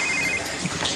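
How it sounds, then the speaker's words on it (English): A phone rings in a TV soap-opera scene, heard as a bright, steady electronic ringing tone that fades after a moment, set against a noisy room background. "Answer your phone."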